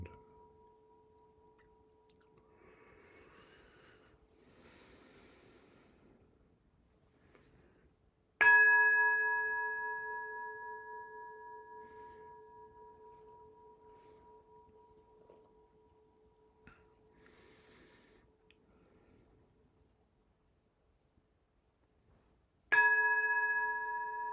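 A temple bell is struck twice, about fourteen seconds apart. Each strike rings out clear and sustained, with a long slowly fading hum, over a quiet background.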